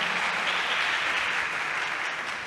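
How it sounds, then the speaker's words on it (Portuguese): A church congregation applauds together in a steady, dense wash of clapping that stays loud and even from start to finish, with no voices over it. "Vamos aplaudir a palavra de Deus, a palavra de vida."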